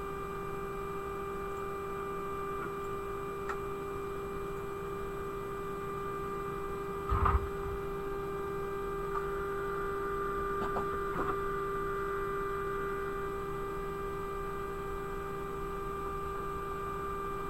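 A 3D printer runs steadily, giving a constant electrical hum and whirring motor tones with a brief clunk midway, close and moderately quiet, with no one talking.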